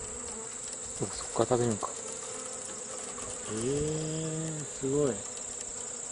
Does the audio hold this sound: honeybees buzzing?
yes